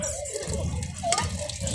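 Water is poured into a pot of rice for cooking, a soft continuous splashing and gurgling at close range, fairly quiet throughout.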